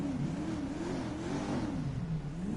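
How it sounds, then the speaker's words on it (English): Enus Windsor Drop Head with a V12 engine in the game GTA, revving with a steady, rising and falling drone that holds loud and continuous, with no talk over it. "It's a powerful V12 engine. I just love the sound."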